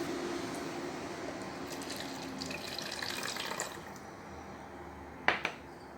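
Water pours steadily from a bottle into a container for a few seconds, a soft trickling splash nearby, ending with a couple of light knocks.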